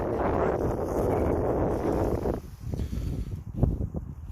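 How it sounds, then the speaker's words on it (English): Heavy wind buffets the microphone by a river during metal detecting and mudlarking, with a loud, low rumble that drops suddenly halfway through, leaving gusty thumps and rustling. "it's a very windy day, so I'm just trying to shelter"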